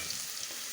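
Red onions frying in a pan for a managu African greens dish, an even, close sizzling hiss with no pauses.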